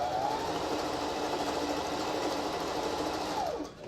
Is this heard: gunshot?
no